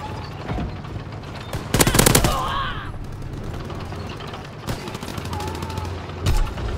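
Call of Duty: WWII gunfire, a loud burst of machine gun fire followed by scattered shots and further short bursts over a rumbling battlefield background, with faint voices mixed in.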